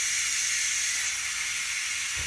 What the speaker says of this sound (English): So let me release this steam.